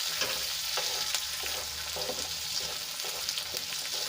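Capsicum cooking under a lid in a pan as a pizza topping, giving a steady, close sizzle and crackle with soft frying pops throughout, no voices.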